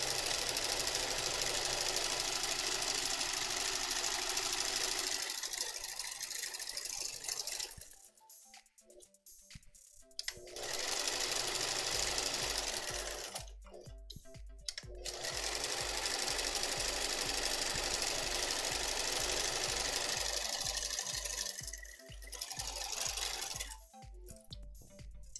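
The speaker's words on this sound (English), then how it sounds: "what I like to do is sew all the way around, and I leave this whole edge open for turning later" A sewing machine stitching around the edge of a fabric coffee cozy, running in a fast steady mechanical rattle with a couple of short pauses, close and fairly quiet, with no talk.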